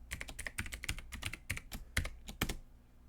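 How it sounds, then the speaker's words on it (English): Rapid, irregular keystrokes on a computer keyboard as a password is entered at a Windows 8.1 login screen, close and crisp with no talking. "launch the login screen by clicking or hitting the spacebar and enter in the same password"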